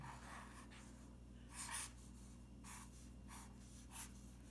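A marker or pen sketches on paper or a board for a physics lesson on pulleys and rolling motion, with a few quiet scratchy strokes spaced apart over a low steady hum.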